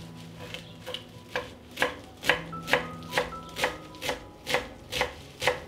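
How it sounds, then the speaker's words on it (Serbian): A knife chops a bunch of fresh parsley on a board with about a dozen crisp, evenly spaced strikes, close and clear, with no voices. "iseckat ću 1 vezu svežeg peršuna"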